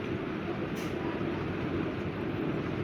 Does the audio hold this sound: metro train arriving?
yes